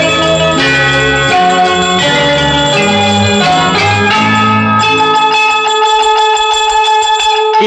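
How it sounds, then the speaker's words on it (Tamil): Bell-like chimes ring out in a 1960s Tamil film song, struck in quick repeated clusters over sustained orchestral tones. The passage is loud and musical throughout. "கிண்கிணி கிண்கிணி கிணி கிணி கிணி என வரும் மாதா கோயில் மணியோசை"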